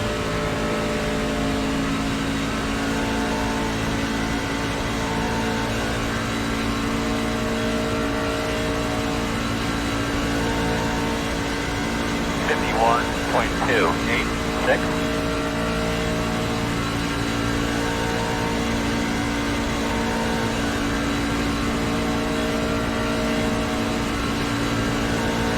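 A racing truck engine in the iRacing game, held at three-quarter throttle, drones steadily at a constant pitch for the whole stretch, with a few faint higher chirps partway through.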